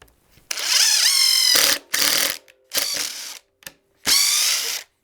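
A Ryobi ONE+ HP cordless impact driver drives a screw, rattling in several loud bursts of rapid hammering, with short pauses between bursts, close up.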